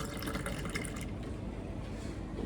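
Orange juice poured from a dispenser into a glass at a Santiago de Chile restaurant, a steady close liquid stream filling for about a second before settling into a softer trickling wash.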